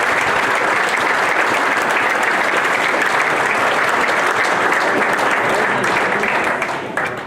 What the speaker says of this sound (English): if you just give them a round of applause please, that'd be much appreciated